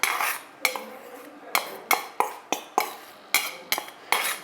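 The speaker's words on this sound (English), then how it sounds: "We're going to place it in a pot, wait for it to get hot." A metal pot is handled on the stove while ghee heats, giving a series of sharp, ringing clanks and knocks at irregular intervals, close and clear with no talking.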